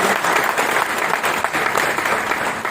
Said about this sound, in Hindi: दोस्तों एक बार जोरदार तालियां होना चाहिए।